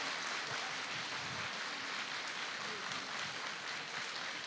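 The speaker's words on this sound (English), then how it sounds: "they would still like to hear another round of applause" Audience applause at a live event, a steady, dense wash of clapping that holds evenly for a few seconds, with no voices standing out.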